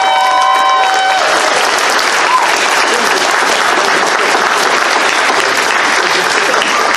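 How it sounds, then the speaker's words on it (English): Loud, sustained applause from a convention crowd at a mock furry courtroom trial, dense and even throughout, with a brief tone at the start. "Guys, give Sparv a huge round of applause."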